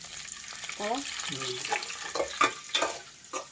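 Food frying in a pan for egg curry with boiled eggs, soft crackling sizzle under intermittent clinks and stirring, fairly faint, with brief voice sounds over it.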